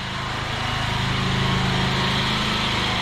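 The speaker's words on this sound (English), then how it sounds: "Excuse the noise, we're just going past a food truck." A food truck's engine runs nearby as it is passed, a faint steady buzzing hum that swells slightly and holds without speech.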